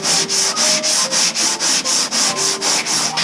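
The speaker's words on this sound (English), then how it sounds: "So I'm nearly going to just continue on with doing it with the block of sandpaper." Car body primer on a Honda Civic Type R is hand-sanded with a sandpaper block in steady, even back-and-forth strokes, about a dozen loud close rasps with no talking.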